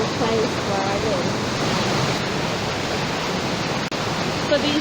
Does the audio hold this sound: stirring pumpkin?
no